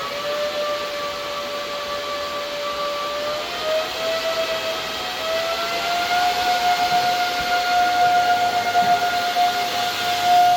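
Cooling fans on a new ASIC crypto miner in a shed spin up, a steady loud whooshing hiss with a whining tone that climbs in pitch and grows louder over about ten seconds.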